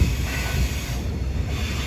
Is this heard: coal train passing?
yes